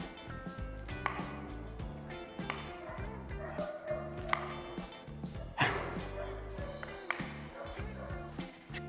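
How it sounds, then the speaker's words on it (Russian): A German shepherd barks during protection training, several rough barks and growl-like bursts at irregular intervals, fairly faint amid other handling noise. "сейчас попытаемся из него достать лай."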